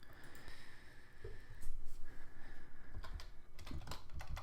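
Keys on a computer keyboard are typed out in a quick run of close, clicky taps as a search is entered, with brief pauses between bursts and no talking.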